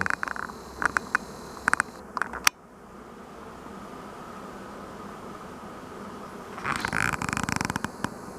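A steady hum of honey bees buzzing around a hive on a hot day, with some sharp clicking and handling noises at the start and the end.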